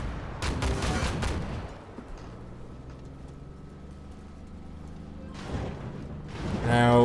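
Tank cannon and gunfire in the Armored Warfare video game, with a burst of booming shots at the start, a low mechanical engine drone in the middle, and more blasts toward the end.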